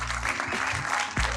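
Brief burst of audience applause at a podcast Q&A session following a film screening, dense clapping filling the short moment with a murmur of voices mixed in.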